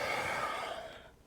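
A deep, slow breath is drawn in during a gentle yoga session. It sounds as a soft, airy inhale that swells and then fades away near the end, with no talking.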